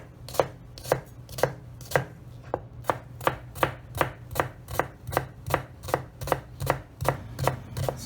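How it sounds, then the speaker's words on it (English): A peeled brown onion being finely chopped with a knife on a board: steady, evenly spaced crisp chops, about two per second, close and clear with no talking. "all we want to do with our onion is very finely chop it."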